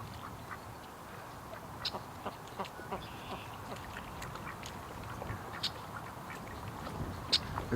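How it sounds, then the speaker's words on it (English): Little ducks quacking in a yard, a scattered series of short nasal quacks at moderate distance over a constant outdoor background hiss, with no talk. "these little ducks come down to watch me"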